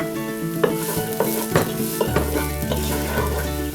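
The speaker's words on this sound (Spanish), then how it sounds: "Primero agregamos la cebolla con el cebollín." Onion and chives sautéing in a hot pan for sofrito: a dense, continuous sizzle close by, broken by regular spoon scrapes and taps against the pan, with a low hum entering partway through; no speech.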